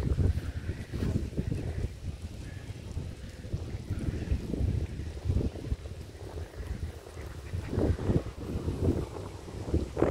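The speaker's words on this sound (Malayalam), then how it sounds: "പക്ഷെ നല്ല കാറ്റുണ്ട്," Strong wind gusts over the Kadamakkudi backwaters, a continuous rough low rumble buffeting the microphone, with a faint wash of water underneath and no talking.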